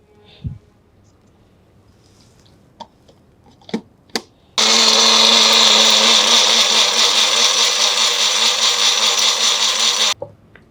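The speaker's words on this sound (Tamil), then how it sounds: "மிக்சியில் சேர்த்து அரைச்சிடலாம்" A kitchen mixer grinder blends beetroot, pomegranate and mint with water into juice, running loud and steady for about six seconds after a few faint clicks and knocks.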